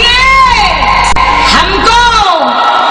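A crowd at Peeli Kothi ground in Banaras cheers and applauds after a young girl recites a poem, with loud overlapping whoops, shouts and clapping that cut off abruptly near the end.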